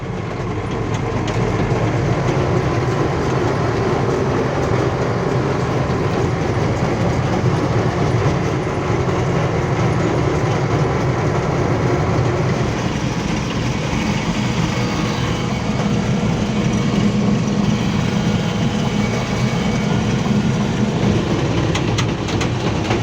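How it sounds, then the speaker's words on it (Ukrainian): Tractor pulling a 2PTS-4M trailer along a rough Ukrainian road, running slowly in fourth gear at half throttle; a steady loud engine drone mixes with rattling and clattering from the trailer, unbroken for over twenty seconds with no talk. "їдемо на тракторі, не спіша, собі включили. Тільки на четвертій передачі їдемо помаленьку, в півгазку."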